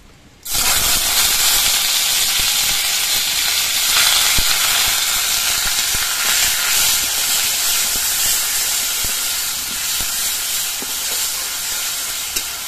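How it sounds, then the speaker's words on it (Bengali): Onion paste frying in a pan for a hill-style vegetable dish gives a loud, steady hiss and sizzle that starts abruptly and continues evenly throughout. "পেঁয়াজের পেস্টটা একটুখানি দিয়ে ভেজে নেব"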